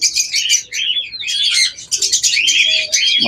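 Caged birds offered for sale chirp and tweet in a busy, overlapping chorus of high, bright calls that runs without pause, close and fairly loud, with no talking.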